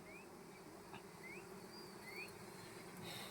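Bees buzz continuously around a wild honey collection, a dense steady swarm hum with occasional higher whines passing close by, no voices.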